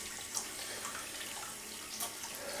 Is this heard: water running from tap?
yes